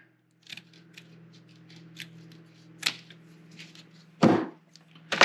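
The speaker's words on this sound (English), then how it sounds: "And then I'm going to cut about a length of the tear." Scissors snip through fiberglass drywall repair mesh, giving a few sharp close cuts spaced irregularly over a steady low hum, with a louder snap near the end.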